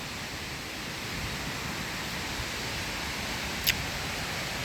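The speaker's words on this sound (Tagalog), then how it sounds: "Yung maririnig mo lang yung mga agos ng tubig dyan kasi may sobrang lakas ng ilog dyan." A strong mountain river in the Salzburg region of Austria pours in a continuous broadband roar, steady and close, with one brief faint click midway and no talking.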